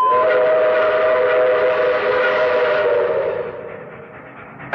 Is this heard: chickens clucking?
no